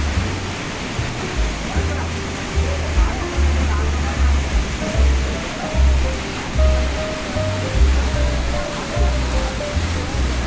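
Perumbankuthu waterfall pours from a height in a loud, unbroken rushing roar, steady broadband water noise filling the whole stretch with faint tonal hints beneath.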